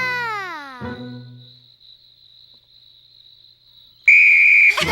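Toy whistle, blown hard at the end for a long, piercing, steady shrill blast up close, after a descending glissando and a thin sustained high tone.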